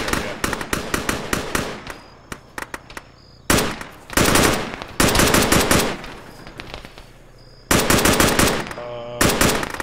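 Rapid automatic gunfire in an Arma military shooter game, played in a ShackTac co-op mission, comes in dense loud bursts separated by brief pauses, with scattered single shots between them.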